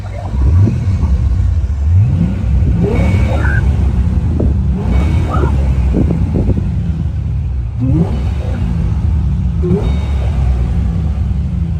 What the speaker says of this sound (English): You hear that blower whine, and it just sounds cool.